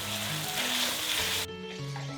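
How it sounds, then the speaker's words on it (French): Pasta being stirred into pesto in a hot pan, with a steady loud sizzle and frying crackle and low stirring scrapes, continuous and close, no talking. "On ajoute les pâtes et on mélange."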